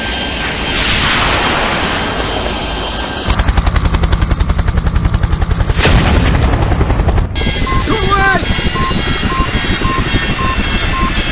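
Missile strike on a helicopter in the IGI video game: steady rotor and machine-gun-like rattle, then a loud burst and explosion, followed by dense mechanical noise with alarm-like beeping tones.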